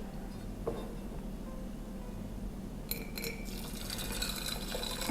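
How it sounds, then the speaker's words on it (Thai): Quiet room tone, then water is poured into a glass in a short trickling stream near the end, with a faint clink. "ทุกคนจะได้ยินเสียงเทน้ำชัดมากนะ"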